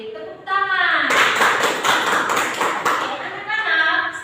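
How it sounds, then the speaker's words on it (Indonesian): Classroom of children clapping their hands together in a dense burst of applause lasting a few seconds, with voices heard before and after. "Oke, tepuk tangan."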